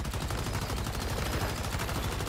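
Sustained rapid-fire bursts from an LMG machine gun in Once Human, a dense, unbroken stream of loud close shots hammering without pause.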